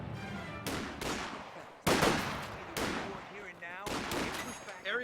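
Machine guns rattle in a video game battle: repeated loud bursts of rapid gunfire, one after another, with faint shouting voices mixed in.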